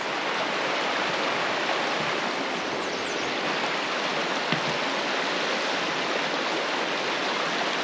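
Creek water rushes continuously in a loud, steady broadband roar, close by, with no voices.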